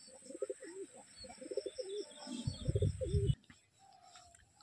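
Domestic pigeons cooing close by, a series of soft rhythmic coos with a few chirps over quiet background hum, ending in near silence.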